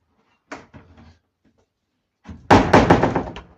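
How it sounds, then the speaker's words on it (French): An old door in an abandoned castle, leading to the kitchens, is pushed open: a faint knock comes first, then after a pause a loud, harsh scraping creak that lasts about a second before fading. "cette porte fait beaucoup de bruit."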